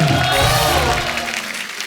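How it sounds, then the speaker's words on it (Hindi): A studio audience on a television comedy show gives a hearty round of applause with some cheering, busy and loud throughout, fading slightly toward the end. "एक बार जोरदार ताली हो जाए"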